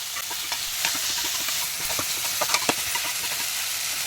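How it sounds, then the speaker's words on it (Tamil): Ginger garlic paste and onions sizzle steadily in a hot pan while a spoon stirs them, a continuous frying hiss with scattered close scraping clicks. "இஞ்சி பூண்டு பேஸ்ட்டோட பச்சை வாசனை போகிற வரைக்கும் நல்லா வதக்கலாம்."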